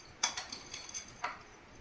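Rice being mixed with roasted peanuts and urad and chana dal for lemon rice, a few light metallic spoon clinks and scrapes against a vessel, quiet and close with no talk.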